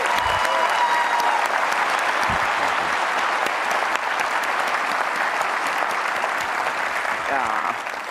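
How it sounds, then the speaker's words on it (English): Large conference audience applauding at a healthcare technology keynote, a full, steady roar of clapping that holds for several seconds with faint voices beneath, then begins to fade at the very end. "So why don't we give him one more hand of applause?"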